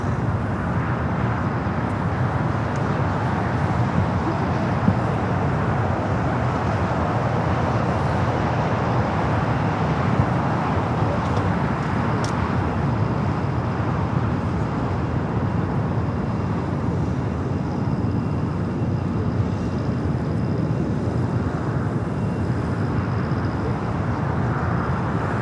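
A jet airliner taking off at Los Angeles LAX airport gives a loud, broadband engine roar that holds steady throughout and fills the air from a distance, with no voices.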